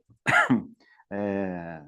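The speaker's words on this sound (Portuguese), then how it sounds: "estou tossindo, desculpa" A single harsh cough, loud and close, followed after a short pause by a voice beginning to speak.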